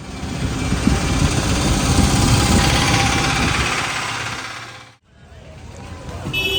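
A busy street in Ayodhya during an e-rickshaw ride, with a steady, fairly loud hum of motor and road noise, bikes and local traffic, crowd murmur, a brief drop to near silence near the end, then the din returns.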